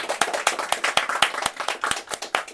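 Concert audience members clap by hand in a loose, uneven patter of distinct sharp claps, close and moderately loud, with a few hands sounding rather than a full crowd.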